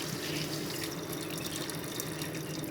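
Water poured over rice in a cooking pot while making rice with mung beans and dried shrimp: a steady, continuous splashing rush, close and even throughout, with no speech.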